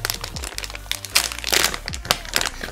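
Crinkling of a resealable plastic snack bag of Haribo gummies, with irregular crackling and rustling bursts up close, handled loudly throughout with some thumps and soft noises mixed in.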